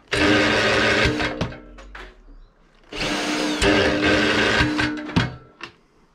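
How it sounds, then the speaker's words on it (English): A power drill whirs in two long bursts with short pauses and stop-start revving, close and loud. "so much easier when you put the drill onto it"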